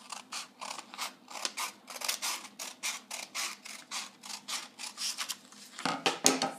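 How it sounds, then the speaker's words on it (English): Scissors snipping an end strip off a sheet of paper while making a fortune teller, a steady run of about twenty crisp close cuts in even rhythm, ending in a louder rustle, no talk. "Since that's an ugly little rectangle at the end, you can cut that piece off."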